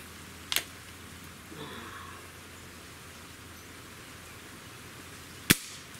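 A Gamo Hunter 220 airgun fires, heard as a sharp, brief snap near the end of a quiet stretch, with a smaller click earlier and faint background hiss between.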